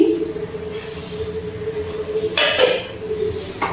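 A metal lid comes off a cooking pot on a low flame with a sharp clatter, and another brief metallic knock follows soon after over a steady low kitchen hum.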